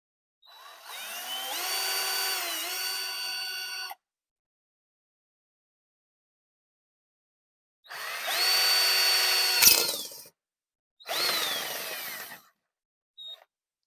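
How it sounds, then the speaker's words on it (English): A power drill bores holes in a plexiglass mirror panel in a garage, in three loud bursts with pitch dips as the bit bites, separated by silence and ending in a short final blip. "I think maybe drill a couple holes in the top to hang it from a rafter"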